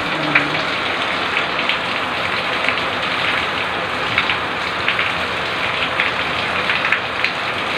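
Rain falls outside in a steady, even hiss, with scattered louder drops tapping nearby and a faint low hum beneath.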